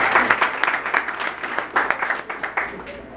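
Audience applauding students at a school competition event, a short burst of crowd clapping with uneven rhythm, fairly close and loud.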